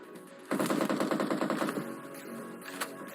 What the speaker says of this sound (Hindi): मेरे को पीछे फायरिंग की साउंड आती है